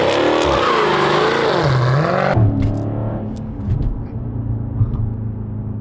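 A 2021 Dodge Challenger Scat Pack V8 in sport mode pulls hard, a loud, continuous engine roar with rising and falling pitch, then a sharp drop after a shift into a lower, steady drone with small bursts.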